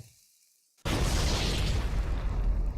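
A Halo: Combat Evolved plasma grenade goes off after a near-silent pause, a sudden loud blast that settles into a sustained roaring rumble.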